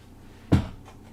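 A shoe storage drawer swings open with a single sharp thump-like clack, close and brief, followed by a fainter second knock.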